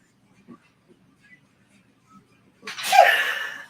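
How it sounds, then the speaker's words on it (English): A single loud sneeze bursts out near the end, after a few seconds of near silence with faint murmurs. "it's just not a show until I sneeze"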